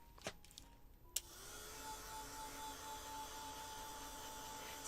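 A watercolor painting of a jolly old elf ornament card dried with a hair dryer: after a couple of faint clicks, a steady airy motor whoosh starts and keeps running at a constant level to the end.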